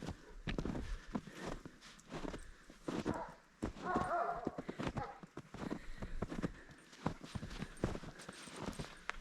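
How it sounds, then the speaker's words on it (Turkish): Horses walk through snow on a farm, their hooves making a continuous irregular clip-clop at close range, with some rustling and faint movement noise and no talk. "Dedik bugün bir atları da çıkaralım."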